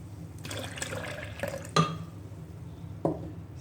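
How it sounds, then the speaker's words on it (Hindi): About 400 ml of coconut milk pours into a blender jug, a soft liquid gurgle with a couple of sharper splashes or knocks partway through. "यहाँ पे ब्लेंडर लिया हमने, ब्लेंडर का जग लिया, इसमें 400 ml के करीब हम लोग कोकोनट मिल्क डाल देंगे।"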